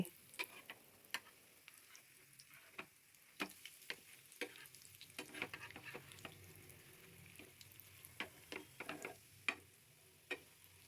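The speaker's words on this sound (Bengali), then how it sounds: "দুদিক ভালো করে ভেজে নিচ্ছি।" Cabbage and potato pakoras frying in hot oil, a quiet background sizzle punctuated by irregular sharp pops and crackles, faint and close, with no talking.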